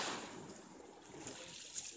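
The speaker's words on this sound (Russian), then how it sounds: "Да, вот волна, я хочу волну." Sea waves wash in a soft continuous rush with a gentle swell at the start, faint and distant under light wind.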